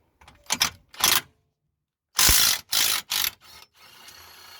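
A ratchet undoes 17mm bolts on a Mitsubishi Lancer, Carisma, Colt or Space Star lower suspension control arm in quick bursts of clicking, with short pauses between strokes, close and loud.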